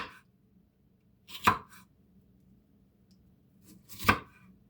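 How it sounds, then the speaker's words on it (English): Two separate knife chops through food on a cutting board, roughly slicing ingredients for pulled pork, crisp and close with a pause between them over a faint low hum. "Cut these up, just a rough slice."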